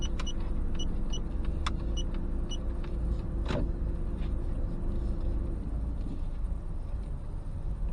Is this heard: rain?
no